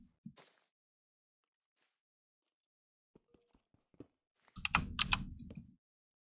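Computer keyboard typing and mouse clicks while playing the game Hytale: a few sparse clicks, then a short, dense burst of fast keystrokes up close, with no talk.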